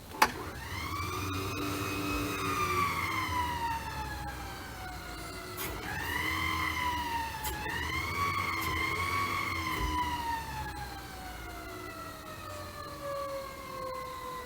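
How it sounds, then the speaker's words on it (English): DC hydraulic pump running on a Versalift VO355 bucket truck, a loud whining motor tone whose pitch sags, rises again and slowly winds down over about fifteen seconds, alone without voices. "And then the ever important DC pump."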